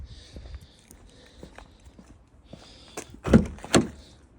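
Car doors opening on a newly bought used car, a few faint handling clicks followed by two louder, close thumps of the door mechanisms near the end, with no talking.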